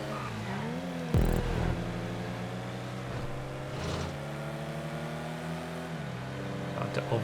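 Several race car engines droning and shifting pitch in a GTA 5 random race, a steady layered hum with one sharp thump early on, moderately loud and with no voices.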